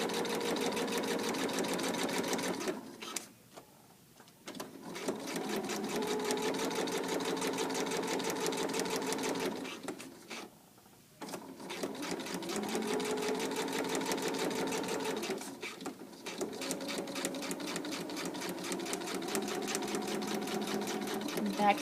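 Domestic sewing machine backstitching a fabric seam, running in three long steady whirring bursts of stitching separated by brief pauses for reversing, fairly close and continuous.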